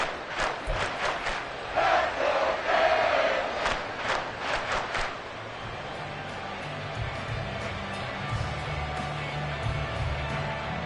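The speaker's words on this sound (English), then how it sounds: "A big play here. Crowd on their feet." An American football stadium crowd rises to its feet during a big play. A swelling roar of cheering rolls under a commentator's play-by-play and then settles into a steady murmur.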